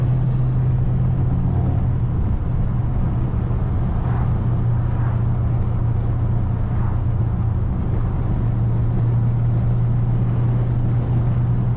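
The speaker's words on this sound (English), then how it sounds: "I did not know it was that easy to burn out in the Hellcat" A Dodge Challenger Hellcat Widebody in a burnout gives a loud, continuous, deep engine roar and tire rumble that holds steady with no talk.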